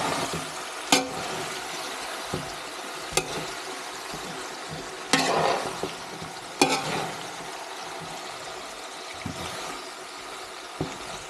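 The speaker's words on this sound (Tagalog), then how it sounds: "Okay, so ito na yung ating karne para ma-stir fry ng konti." Beef pieces stir-frying in a pan make a soft continuous sizzle, broken by a few sharp scraping and clattering stirs at irregular moments.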